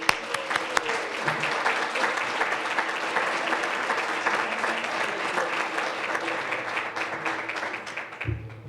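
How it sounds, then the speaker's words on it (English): A seated audience at a spring event gives a round of applause for an honoree, dense, even clapping sustained for about eight seconds before tapering off as a voice begins. "How about a nice round of applause for Scott Palmer?"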